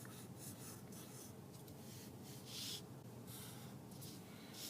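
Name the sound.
pencil drawing a frog on paper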